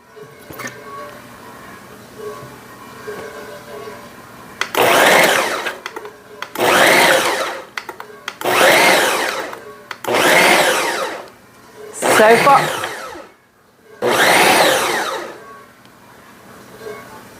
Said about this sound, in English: Maybe this is the Ninja food processor.